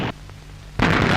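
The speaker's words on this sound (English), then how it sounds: "Watch this explosion." A single heavy explosion from a wartime air raid on Emden, Germany, 1943, bursts in loudly after a brief lull, its roar sustained to the end, preceded by a quieter rumble.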